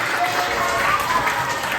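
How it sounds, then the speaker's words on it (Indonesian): Students clap their hands together in a high school Indonesian-language classroom, a brief burst of group applause with some faint voices mixed in. "Oke, tepuk tangan."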